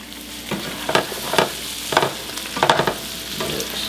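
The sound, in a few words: Brussels sprouts frying and browning in a pan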